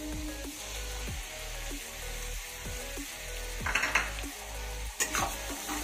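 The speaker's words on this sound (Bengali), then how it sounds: "এবার পেঁয়াজ আর রসুনটাকেও তেলের সাথে খুব সুন্দরভাবে ভেজে নেব।" Onion paste and garlic frying in oil over medium heat in a pan, a steady sizzle broken by repeated scraping stirs of a utensil against the pan, with a couple of louder spatters near the end.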